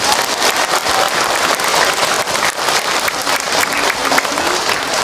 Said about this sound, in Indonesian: Tepuk tangan buat Ahilman dong untuk jawabannya.